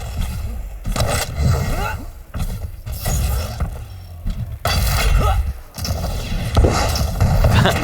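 Rockets explode nonstop in a Quake Champions arena duel, loud booming impacts and crackling blasts crowding one another with only short dips between bursts, close and dense throughout.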